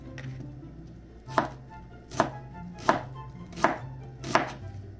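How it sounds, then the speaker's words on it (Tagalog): A knife chops onions on a cutting board in five crisp, evenly spaced thuds, close and clear over a quiet kitchen background. "Dito sa paghiwa ng sibuyas."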